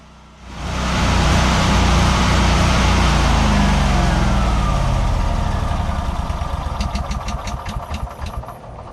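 Powerhorse 27,000 watt generator running as its carburetor runs dry, loud steady engine drone close by that starts abruptly, holds, then begins to stutter and sputter as fuel runs out.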